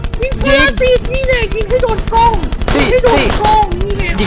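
Rapid machine-gun fire in the Skibidi Toilet video game, aimed at a parasite: quick, evenly spaced bursts rattling loudly beneath wavering tonal game sounds and music.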